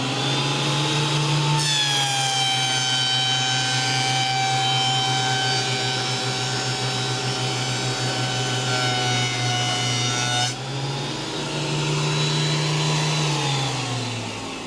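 A Cutech jointer planer runs with a loud, steady motor whine and cuts wood without a dust extractor fitted; the tone rises as it works, drops briefly, then carries on.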